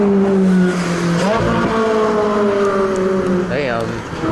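A Ferrari accelerates past close by on a Tokyo street, a rising, revving engine note that sweeps upward and fades, with a second brief surge near the end.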